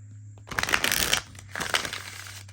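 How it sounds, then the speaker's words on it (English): Tarot cards of normal size being shuffled: two quick riffling bursts, close and fairly soft, with a short pause between. "Yeah, they shuffle nicely."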